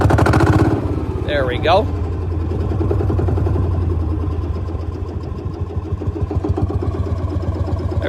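A 1955 Lanz Bulldog D2402 tractor engine cranks and fires, settling into a loud, steady low thumping idle close by, with someone speaking briefly over the start.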